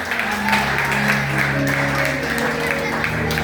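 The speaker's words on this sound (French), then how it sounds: "Applaudissez-nous, s'il vous plaît." A church congregation claps at a gospel service, dense steady applause under a sustained musical drone and some voices, continuing evenly throughout.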